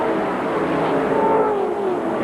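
NASCAR stock cars racing in the 1996 NASCAR video game, a dense continuous engine roar with a rising then falling whine from a pack at speed, loud and steady.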